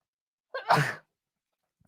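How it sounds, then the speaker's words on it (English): A single close sneeze bursts out after a brief intake of breath, short and fairly loud, with near silence on either side. "hang on, I'm going to sneeze"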